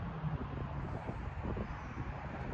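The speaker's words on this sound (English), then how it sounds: "It's windy out here." Steady outdoor wind rumbling and buffeting against the microphone, a continuous low roar with gusty swells throughout.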